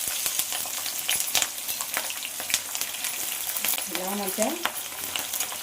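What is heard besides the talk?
frying and stirring lentils and chillies in a pan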